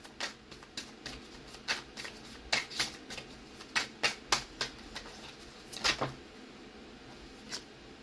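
A deck of tarot cards shuffled by hand, giving a run of quick crisp riffling snaps at an irregular rhythm, close and fairly quiet, with no one talking.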